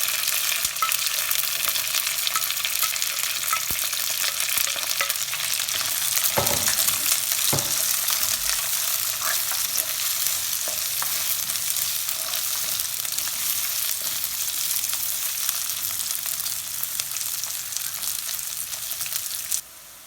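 Onions frying in a pan for a Tamil fish curry: a steady, dense sizzle runs throughout, with a few clinks and stirring scrapes, close and continuous, with no voice.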